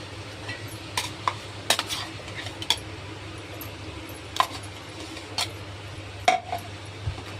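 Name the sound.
stirring gravy with smashed potatoes and peas in pot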